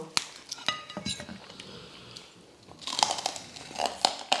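Crisp, crackling bites and chewing of oven-roasted crispy pork belly (moo krob), heard up close with sharp crunches early on, a quieter stretch, then a louder burst of crunching; no one speaks.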